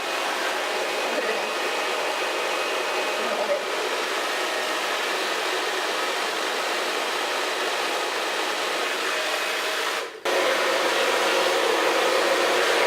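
Hair dryer with a diffuser attachment running on medium heat and high airflow: a loud, steady close roar of rushing air throughout, with a brief dip and a slight change in tone near the end, and no talk.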